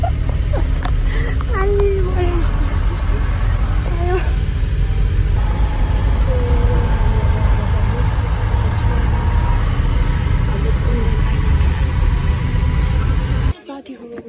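A vehicle drives along a mountain road, its steady engine and road rumble holding loud and constant for most of the stretch before cutting off sharply near the end, with faint voices and chatter heard faintly over the noise.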